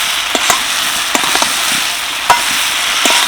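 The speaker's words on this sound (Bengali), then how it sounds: "এবার দিয়ে দিচ্ছি ভেজে রাখা ভেন্ডি আর আলু। মশলার সাথে ভালোভাবে নাড়িয়ে চাড়িয়ে নেব।" Fried okra and potatoes stirred into a spice paste in a pan, a loud, close sizzle with intermittent sharp pops and spoon knocks.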